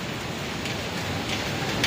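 Heavy rain at a construction site, a loud dense continuous roar of downpour close by, steady throughout with no voices.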